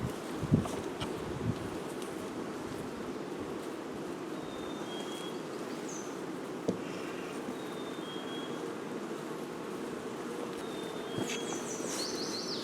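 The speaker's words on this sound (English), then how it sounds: "Some honeybees. These are all the foraging bees." Foraging honeybees buzz faintly around the hive outdoors, a soft continuous hum with occasional brief louder passes and light rustling nearby.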